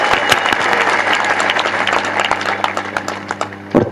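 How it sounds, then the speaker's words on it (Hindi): Loud audience applause breaks out after a patriotic Hindi poem recitation, dense clapping from a crowd throughout, with a few sharper claps and a brief burst near the end. "ये गलत जगह ताली बजाई आपने"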